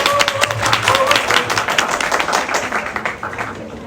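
An audience at a citizens' talk concert in Cheonan applauds to welcome the next speaker, a full round of clapping that starts strong and slowly thins out toward the end.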